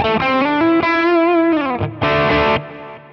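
Electric guitar through a J.Rockett HRM overdrive pedal, tone still muffled with the mid-range at half, plays a few bending distorted notes and a closing chord that cuts off, with no voices.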